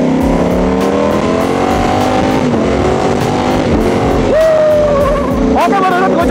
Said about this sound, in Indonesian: Oke, gue cobain powernya dikit ya.